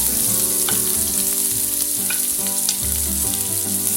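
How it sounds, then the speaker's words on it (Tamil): Onions sautéing in hot oil with fennel seeds and curry leaves for a shark fish puttu, a steady close sizzle and crackle of frying with occasional stirring scrapes, no voices. "இப்போ வந்து வெங்காயத்தை சேர்த்து வதக்கிக்கலாம்."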